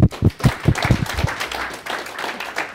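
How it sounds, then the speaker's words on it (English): An audience applauds to welcome a speaker at a philosophy talk on Objectivism, with a loud burst of sharp close claps that thins into a looser, softer patter. "Please give them a welcoming round of applause."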